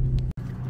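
Road traffic at a busy intersection near a highway exit, a vehicle rushing by close with a brief break in the sound.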